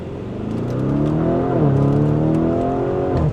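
A Lamborghini Urus S engine accelerates hard, a loud rising growl that climbs through the revs, dips briefly at a gear change, then climbs again, with no talking.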